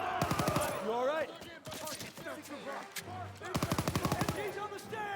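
Rapid bursts of machine gun fire in the World War II shooter Call of Duty WW2, loud and close, with two dense volleys separated by a quieter stretch of scattered combat noise.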